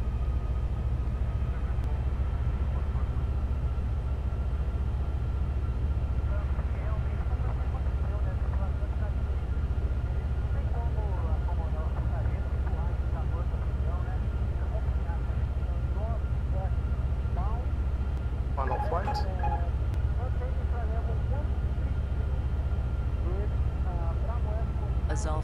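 Cabin of an airliner on approach for landing at SBPA, a constant loud low engine and airflow roar holding steady throughout, with faint cockpit voices and radio chatter beneath it.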